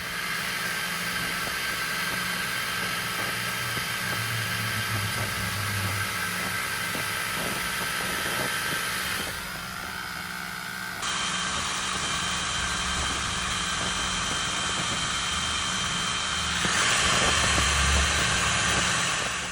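A laser engraving machine runs steadily while cutting and engraving a Mother's Day gift, producing a continuous hum with fan noise that shifts in tone midway and rises slightly near the end, with no talking.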